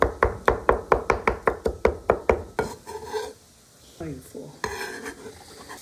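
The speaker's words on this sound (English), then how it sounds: "So garlic is going together with the onions. We're going to give it a nice mix." Garlic and onions being stirred in a pan, with a fast run of a dozen sharp utensil scrapes and knocks against the pan, then quieter rustling and clatter, all close by.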